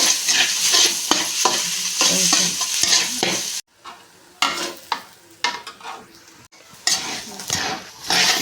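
Egg onion fry being stirred in a frying pan: loud sizzling with repeated scraping and clanking strokes of a spatula, broken by brief pauses.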